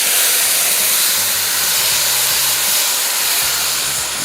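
Mutton pieces hitting hot oil with white cumin in a pot for a meat and chilli curry, a loud steady sizzle and hiss close up, continuous with no talking.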